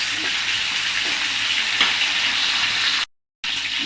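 Ginger paste fries in a pan for a chicken and potato curry, a dense steady sizzle that cuts out abruptly for a moment before resuming.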